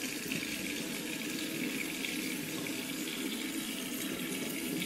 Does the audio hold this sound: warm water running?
yes